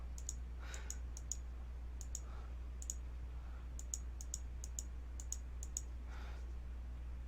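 Faint, sharp clicks in small irregular clusters over a steady low hum, close and quiet, like a mouse being clicked repeatedly.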